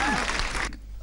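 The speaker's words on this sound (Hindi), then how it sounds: "तालियां बजाइए" Audience applause at a Hindi comedy poetry recital, a brief loud burst of clapping that cuts off sharply partway through.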